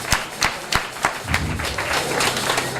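A church congregation at a Sunday service claps in sharp, rhythmic beats that swell into sustained applause, fairly close and lively.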